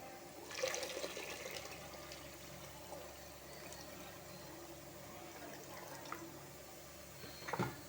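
Water poured into a pot, a short splashy pour at the start with faint trickling after and another brief splash at the end, quiet and close.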